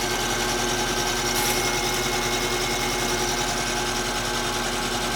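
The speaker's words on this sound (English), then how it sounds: "This little machine is a Grizzly machine" A small Grizzly milling machine, model 7859, runs with a steady, even mechanical whir and faint high tonal whine, close and continuous throughout with no pauses.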